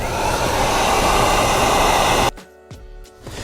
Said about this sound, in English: if you don't have a heat gun, you can also use a hair dryer